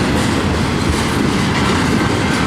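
A Norfolk Southern intermodal freight train passes close by, its wheels drumming in a loud, continuous clickety-clack with heavy rumbling and no voices.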